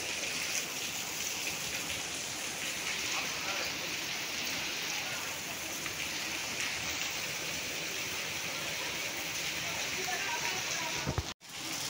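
Heavy rain pours down steadily during a downpour and flooding, a dense, even wash of noise that stays constant throughout, with a brief dropout near the end.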